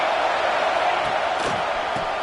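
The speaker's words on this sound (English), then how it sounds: "Third down and the crowd really getting into it." A large football stadium crowd roars steadily on a third down during a Florida State versus Clemson game, a dense, continuous wash of cheering with a few louder swells.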